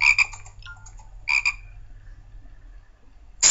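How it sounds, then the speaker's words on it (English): Two short bursts of rapid frog croaking, each a quick rattling series, separated by a quiet pause over a low steady hum. "he's next to a frog"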